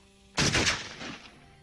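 A single loud gunshot in an action thriller, a sharp close blast that rings out and decays over about a second.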